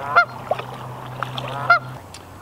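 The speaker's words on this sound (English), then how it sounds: "We've got a huge gaggle of Canada geese over here." Canada geese honk in short nasal calls at a park, a few scattered honks over a quiet outdoor background with a low steady hum.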